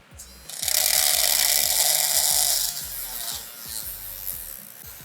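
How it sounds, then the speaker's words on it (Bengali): A compact mini drill bores into dry wood with its thickest bit, a loud, steady whirring grind lasting about two seconds before dropping to a quieter, rougher running buzz with faint ticking underneath. "আমাদের একেবারে মোটা যে ড্রিল বিটটা সেটা দিয়েও কিন্তু আমাদের ড্রিলটা হয়েছে"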